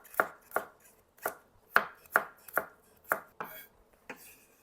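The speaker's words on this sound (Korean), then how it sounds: "파스타에 들어갈 마늘도 편을 썰어 놓을게요." A knife slices garlic cloves on a cutting board in about ten crisp, close chops at an uneven rhythm, with nothing else audible.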